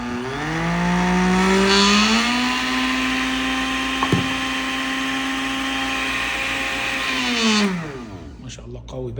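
A Braun 800 watt blender runs on its lowest speed, a loud, steady motor whine that swells briefly at start-up, holds an even pitch, then winds down as it is switched off.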